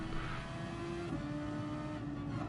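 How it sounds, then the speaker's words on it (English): GT racing car engine in a video game, revved hard and held near the limit, a continuous loud whining drone with one brief pitch dip as it shifts. "Revving the absolute shit out of it."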